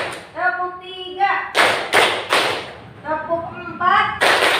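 Children clap in unison during a counting exercise, loud close bursts landing in small groups between stretches of a voice calling out the count.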